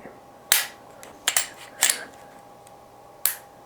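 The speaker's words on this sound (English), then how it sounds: "Let me show you this trigger pull." Sharp mechanical clicks from the Apex trigger on a Hellcat Pro pistol, one crisp snap then a close double click and two more spaced clicks, loud and near over quiet room tone with no talk.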